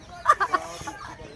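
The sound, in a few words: domestic rooster clucking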